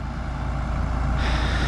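Farm tractor with a cab, its engine idling nearby as a steady low diesel rumble that swells slightly louder partway through.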